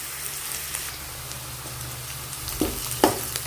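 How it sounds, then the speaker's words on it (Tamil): Onion, cinnamon and chili sauté in a hot pan, giving a steady soft sizzle with a few louder stirring scrapes near the end. "இப்போ வெங்காயம் பட்டை மிளகாய் போட்டு நல்லா சோறாக வதக்கிக்கணும்"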